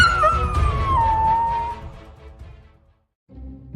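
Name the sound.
dog howling in a cat cartoon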